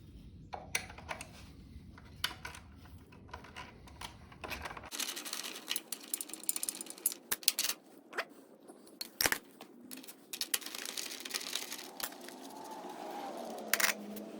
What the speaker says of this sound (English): next we're going to take these two seat bolts out, and the bolt heads are 10mm